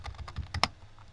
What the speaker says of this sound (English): Now you're going to type in your password.